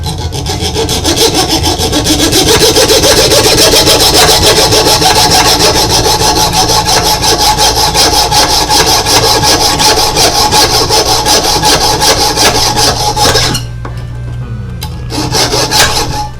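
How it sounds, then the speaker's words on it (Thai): A dull hand saw rasps steadily through wood in loud, continuous rhythmic strokes, close by, pausing briefly near the end before resuming. "สำหรับเลื่อยไม้นะครับ"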